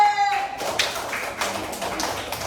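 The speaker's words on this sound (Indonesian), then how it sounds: "tepuk tangan untuk kelompok D." Brief classroom applause for a student group, a few seconds of scattered claps following a short tone, with some voices mixed in.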